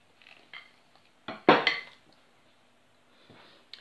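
Cocoa-flavoured egg-white batter being mixed in a bowl, heard as sparse clinks and scrapes of a utensil against the bowl, with one louder clatter in the middle and quieter taps around it.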